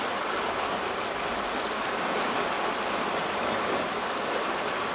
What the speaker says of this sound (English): And that's the Suwannee River.